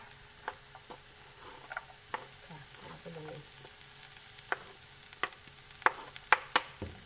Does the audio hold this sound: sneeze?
no